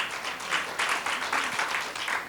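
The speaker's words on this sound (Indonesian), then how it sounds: "Ayo beri tepuk tangan kepada Tuhan." An audience claps together in a steady wash of applause, moderately loud with gentle surges, no voices standing out.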